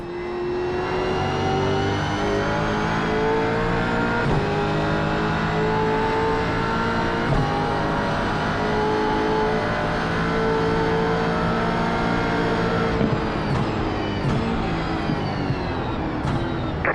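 Gen 3 Supercar engine in a sim racing game, revving hard and steadily for the whole stretch with rising and falling pitch as it shifts through the gears, loud and up close.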